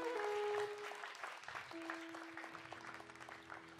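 A church congregation applauding, a continuous patter of clapping with a sustained tone running through it, steady throughout and moderately distant.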